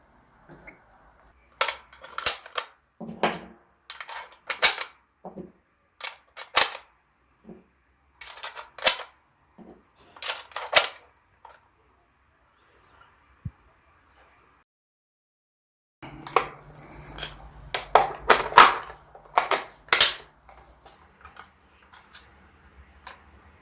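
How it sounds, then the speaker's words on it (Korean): Hudson AK 47S ignition-type model gun being loaded and cycled: a sparse series of sharp metallic clicks and clacks as cartridges are pressed into the magazine, the charging handle is racked and the action dry-fired, close and fairly loud with pauses between. "카트리지들을 탄창에 장전하고 공격발한 뒤에 이 장전 손잡이를 잡아당겨서 탄피를 배출하는 실총 같은 작동은 즐겨볼 수 있죠"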